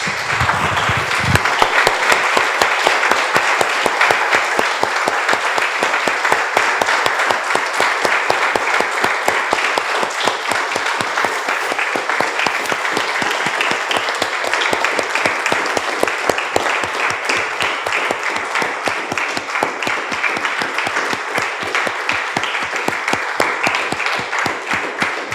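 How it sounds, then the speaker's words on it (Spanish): A church congregation breaks into sustained applause, dense and steady from start to finish, filling the room without pause and with no voices rising above it. "Damos un aplauso, hermanos."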